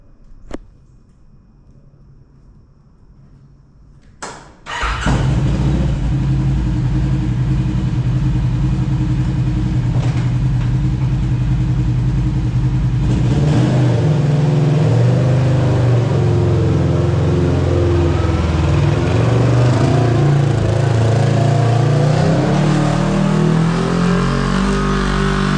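A Kawasaki KRX UTV with rebuilt shocks fires up after a few seconds of near quiet, then drives off with a loud, steady engine roar and revving that continues to the end.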